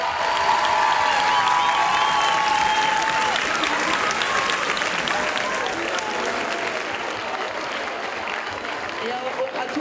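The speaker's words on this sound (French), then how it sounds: "Applaudissez-les fort, s'il vous plaît" An audience at a student eloquence contest in Toulouse applauds the speakers, with steady, dense clapping running the whole time and voices audible over it near the start.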